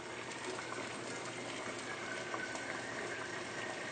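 Water boiling hard with an iPhone 5s submerged in it, a steady dense bubbling and seething that stays at an even level throughout, with no voices.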